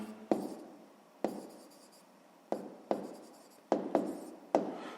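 Pen strokes scratch across notebook paper in a series of about seven short bursts, each starting with a sharp tap and fading, close and alone.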